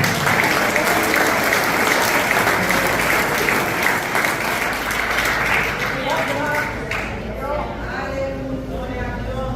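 A church congregation applauds loudly and steadily, dense clapping filling the space, with voices mixed in before the applause thins slightly toward the end.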